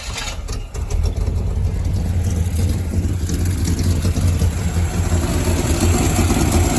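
An old Dodge 454 big-block engine runs steadily at a rough, rumbling idle close by, loud and continuous with no talking.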